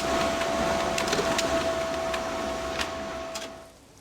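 A printer in a horror adventure video game runs a printing job for photos, giving a steady mechanical whir with a constant tone and faint clicks that fades out near the end.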